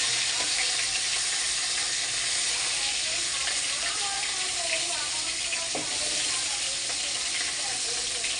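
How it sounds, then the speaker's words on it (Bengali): Fish fries in a pan with a dense, steady sizzle and crackle, close and continuous, with faint clinks of a utensil. "মাছগুলো ভেজে নিচ্ছি"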